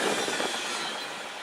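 A train passing, led by a locomotive in warbonnet paint, a loud steady rush of wheels on rail with metallic squeal and rhythmic clatter, fading slightly toward the end.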